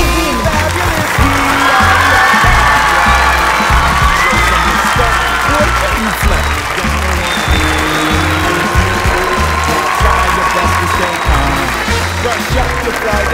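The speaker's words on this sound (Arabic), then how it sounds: "تصفيق" A crowd applauding and cheering for Mena Massoud, dense, loud clapping that carries on steadily throughout, with occasional whoops rising above it and voices mixed in.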